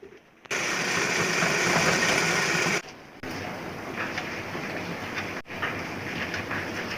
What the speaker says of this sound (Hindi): अब इसे हमें सिलाई मारेंगे।